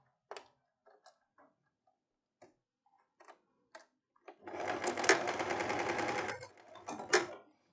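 A sewing machine stitches a summer tank top in one steady two-second run, preceded by scattered clicks and taps of fabric handling and followed by a final short burst.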